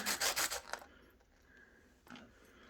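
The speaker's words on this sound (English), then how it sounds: "Give it a little sand on the bottom" The bottom of a handmade silver pendant is sanded, giving several quick, close scratchy rasping strokes in a short rhythmic burst, followed by quiet and one brief softer scrape.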